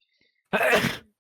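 A person sneezes once, sharp and fairly close, during a tabletop card game session, a short breathy burst in an otherwise quiet moment.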